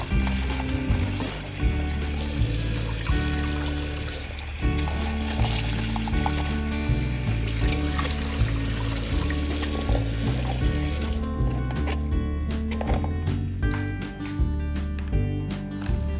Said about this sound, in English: And let's go ahead and wash it.